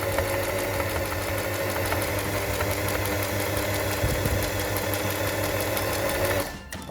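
Sewing machine running steadily while stitching a fabric hem along a guide, a fast continuous mechanical whir held at even speed, then stopping abruptly at the end.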